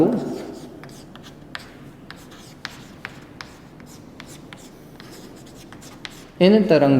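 Handwriting strokes on a board during a physics lesson, a series of short scratchy marks spaced every half second or so, with a voice speaking briefly at the start and end.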